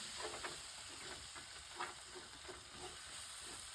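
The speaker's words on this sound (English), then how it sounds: "I'm going to whisk it in so it's nicely mixed in" A whisk working cayenne and hot paprika through a pan of flour-thickened white sauce, with a steady sizzling hiss underneath and light rhythmic scraping strokes, close but quiet, with no voice.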